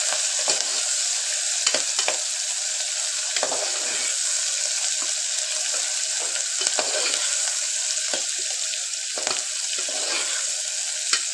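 Spices frying in a pan until golden, with onions and green chillies: a loud, continuous hiss of hot oil broken by repeated clicks and scrapes of stirring.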